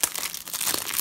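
Plastic shrink wrap being torn off a Sonic Mania game case, a brief burst of close, dense crinkling and ripping that lasts about a second.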